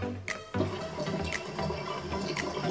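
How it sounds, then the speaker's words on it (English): Tap water runs into a sink while a face is washed, a close steady splashing that begins after a short quiet moment and carries on with small bursts of spatter. "And I wash it away with the water, the Vienna water."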